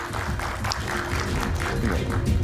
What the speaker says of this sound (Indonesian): Kita berikan tepuk tangan sekali lagi Bung San Salvator